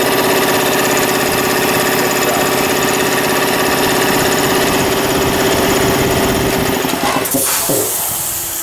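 An air compressor's electric motor, newly wired to a magnetic starter switch, runs loud and steady in a workshop with a dense mechanical drone, then winds down near the end.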